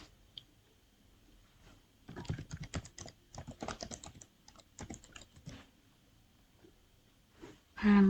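Someone types on a computer keyboard while entering staff details into a Python library application. Irregular bursts of close key clicks come in several runs separated by quiet pauses, ending with a louder thump.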